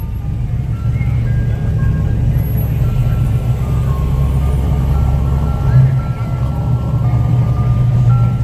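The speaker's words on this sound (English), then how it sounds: "There's your ice cream truck." An ice cream truck's tinny jingle melody plays over a loud, steady low vehicle rumble, with voices talking at moments.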